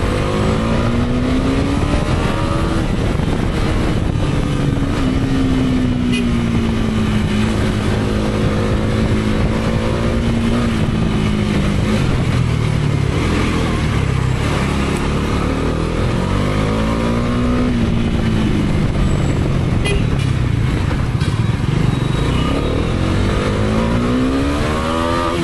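A new 2025 motorcycle is ridden steadily, its engine droning close and loud as it climbs through the gears, pitch rising, dropping at each shift and rising again, with wind rush throughout.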